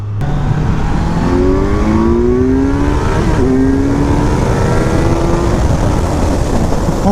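A 2018 Kawasaki Z900 motorcycle accelerates hard on a road ride, its engine note climbing through several rising sweeps between gear changes, loud and close over constant wind rush.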